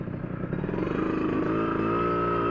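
A Yamaha RXZ two-stroke motorcycle fitted with a local racing exhaust idles close by, then its engine note climbs into a steady, buzzing rev that holds loud and even.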